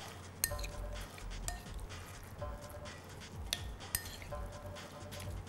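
Quiet clinks and scrapes of a utensil against a bowl while mixing walnuts and lemon juice, a few sharper taps spaced out over a soft, steady background.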